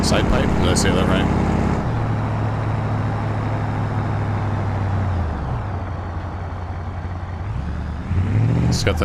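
A car engine fitted with side pipe exhaust in the BeamNG driving game rumbles loud and close, holding a steady throaty drone, dropping back to a lower idle, then rising again near the end as someone speaks over it.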